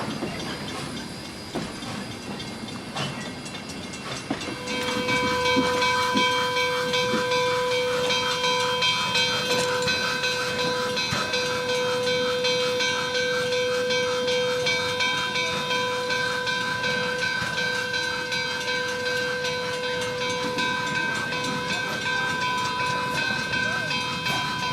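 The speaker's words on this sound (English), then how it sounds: "765 is uncoupled from the train to back down onto the Y" Steam locomotive 765 backs down onto a wye, giving off steady hissing and mechanical rumble, with sustained whistle-like tones entering a few seconds in and holding throughout, and faint voices in the background.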